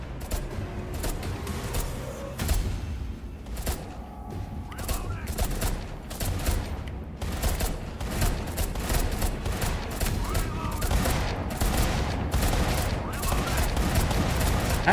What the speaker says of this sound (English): That's a lot of bullets that they're shooting at the wall.